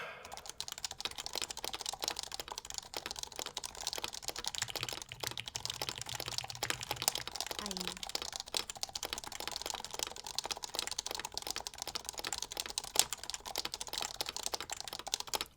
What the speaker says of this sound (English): Let's get a better typing feel for this.